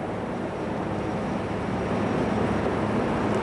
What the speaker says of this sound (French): Voilà donc l'hélicoptère présidentiel français décolle.